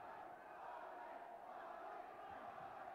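A boxing crowd at a middleweight fight in South Africa roars steadily in a distant, muffled wash of cheering that holds at an even level throughout.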